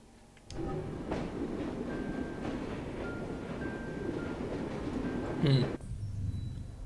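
A train rumbles along in Assassin's Creed Syndicate, a steady dense rolling rail noise that starts abruptly and holds loud for several seconds, with faint whistle-like tones and a brief sharp screech near the end.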